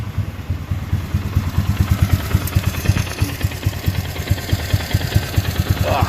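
A warmed-up 2004 Polaris Sportsman four-wheeler engine idles close by with a steady low thumping pulse, running alone without speech.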